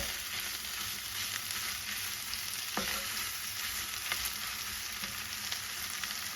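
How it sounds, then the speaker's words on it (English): Meatloaf mix with cheese melting over it cooks in a pan, giving a faint, even, continuous sizzle with an occasional small tick or pop, no voices. "So we'll give this about 1 more minute of cooking and we should be ready to go"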